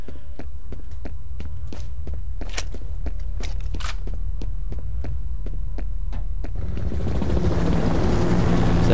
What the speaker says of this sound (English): It's that helicopter again.